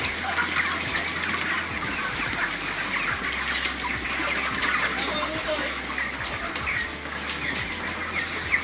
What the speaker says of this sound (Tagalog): Ayan po ng manok.